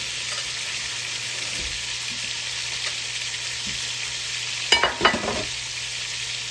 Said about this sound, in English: we're going to have to sear them probably about 6, 7, maybe 10 minutes on each side